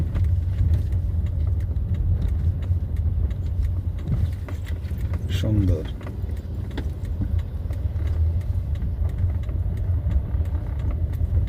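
A car moves along a rough, broken road while a learner driver is instructed, giving a steady loud low rumble of engine and road noise with brief rattles around the middle; a voice speaks a single word near the end.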